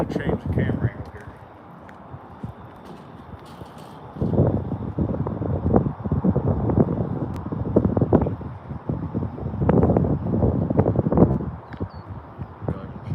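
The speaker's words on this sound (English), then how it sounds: "It's getting windy." Gusty wind outdoors buffeting the microphone in rumbling surges that rise and fall over several seconds, loud and close.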